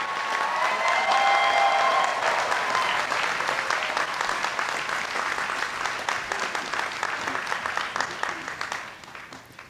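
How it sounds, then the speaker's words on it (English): Commencement audience applauding steadily at a university graduation ceremony, a dense, even wash of clapping that carries on for several seconds before tapering off. "please give Kevin Gover another round of applause for an outstanding address yesterday"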